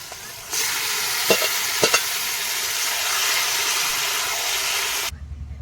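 Marinated chicken hits hot oil with fried onions, bursting into a loud, sudden sizzle that holds steady for several seconds with a few spatula knocks, then cuts off abruptly.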